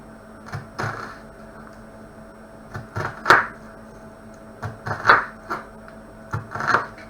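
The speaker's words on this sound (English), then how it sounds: "Rotate it and use the claw grip to then cut these into dices." A knife dicing food on a chopping board with a claw grip, for a quiche, gives sharp knocks in small clusters of two or three, fairly close and clear, with quiet gaps between and no talk.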